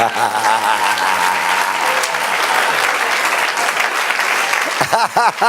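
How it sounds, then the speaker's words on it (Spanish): A church congregation breaks into loud, sustained applause during a sermon, thick rapid clapping filling the whole stretch while voices call out over it near the end. "Den un aplauso al Señor"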